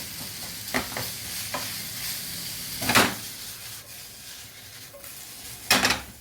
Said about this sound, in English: We're just looking to get a bit of colour on our sausage here